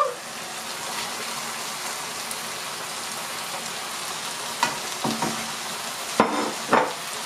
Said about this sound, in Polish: I chwilę podsmażymy, żeby cebula nasza się zeszkliła